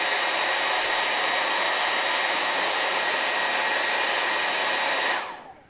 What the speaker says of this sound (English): sometimes you need more heat than just your finger